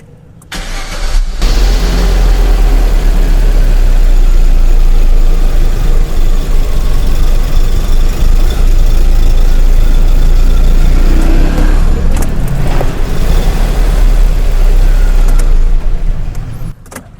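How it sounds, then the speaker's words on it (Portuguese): A car engine cranks briefly and catches, then idles loud and close for a long stretch with a rough, uneven running note while the fuel reads 99 percent ethanol. "Vou dar partida no carro"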